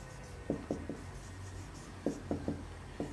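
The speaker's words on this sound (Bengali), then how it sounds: "আর এখানে লিখবো পাওনাদার" A pen scratches across paper in short separate strokes, two clusters of quick marks with a pause between, faint and close with no talk.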